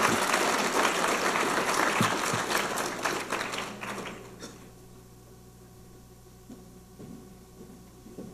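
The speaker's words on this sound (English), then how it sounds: "Give her an applause." An audience at a college's spring opening-day gathering applauds, dense and loud for about four seconds, then dies away to quiet room tone with a few scattered claps.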